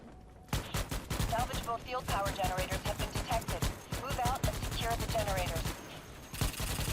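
Rapid bursts of gunfire from a Starship Troopers video game rattle out in dense volleys for several seconds, loud and sharp, with brief pauses between strings of shots.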